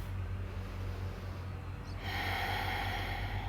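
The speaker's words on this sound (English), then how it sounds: "Take one more big breath." A deep breath during a yoga warm-up for rock climbers: a long, steady inhale, then a louder rushing exhale through the nose, close to the microphone over a constant low background hum.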